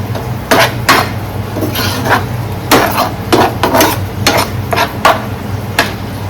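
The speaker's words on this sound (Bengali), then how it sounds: "এবার এই মশলাগুলো ভালো করে কষিয়ে নেব" Spices frying with a splash of water in a pan for a Bengali papaya and prawn dish, a spatula clanking and scraping the metal in uneven bursts over a steady low hum; no one speaks.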